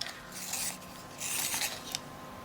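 A colouring pencil is sharpened in two bursts of dry, raspy grinding, quiet and close, each lasting under a second, with a brief click near the end and no talk.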